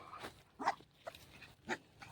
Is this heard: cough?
no